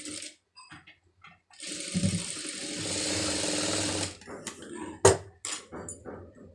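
A sewing machine stitches fabric pieces together, its motor running in a steady loud burst for a couple of seconds amid short handling clicks and knocks before and after.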